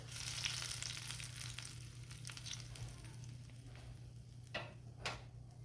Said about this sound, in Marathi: आता हा आपण कोशिंबिरीमध्ये घालूयात गॅस ऑफ करते मी हा कोशिंबीर मी तडका घालूयात